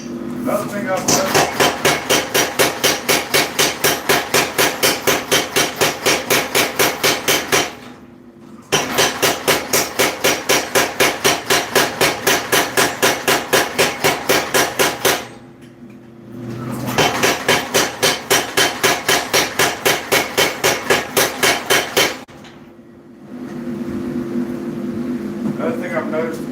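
Loud, rapid strikes from a power hammer on metal, a flatter maker under test, come in three long runs of evenly spaced blows separated by short pauses, with a motor hum continuing between runs.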